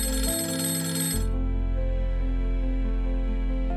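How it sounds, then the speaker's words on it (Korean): A telephone rings for an incoming call in a 1991 Seoul apartment, a steady electronic ringing with a shift in tone partway through, close and alone with no voices. "그리고 그날 밤 11시 형호의 집으로 협박 전화가 걸려옵니다."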